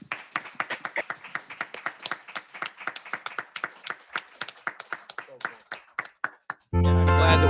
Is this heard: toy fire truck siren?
no